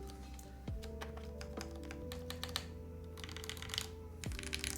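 Typing on a Frost TKL mechanical keyboard during a build, with fast, close clacking keystrokes in irregular bursts over a low background hum that carries a few descending tonal sweeps.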